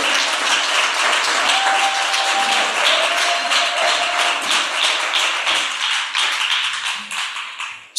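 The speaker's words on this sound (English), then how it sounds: "can we give her a hand clap?" A church congregation at a Sabbath gathering in Detroit claps and applauds in a dense, steady patter of many hands. It runs strongly for several seconds, then tapers off near the end.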